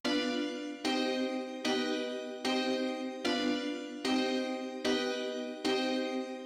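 A layered synth preset plays the main melody of a beat, a bright harmonic tone struck in eight even, sustained phrases that decay slightly before each restart, loud and alone without any talk.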